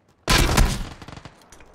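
A grenade blast in a shooter video game, one sudden loud burst of explosion with crackling debris that fades over about a second.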